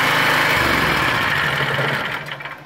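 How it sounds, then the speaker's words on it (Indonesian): A GGA 3900 type generator powering a MIG welder runs with a loud, buzzing engine drone close by, then winds down and sputters to a stop near the end as it is switched off. "Kita matikan gensetnya ya."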